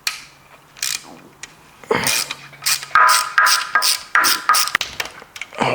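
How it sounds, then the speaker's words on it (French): Mechanical clicking and clattering of a ratchet loosening bolts on a KTM 525 engine, close by, in irregular bursts of rapid ratchet ticks with short pauses in between. "on va dévisser toute cette merde"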